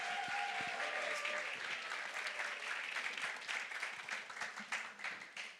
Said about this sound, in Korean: 박수로 여러분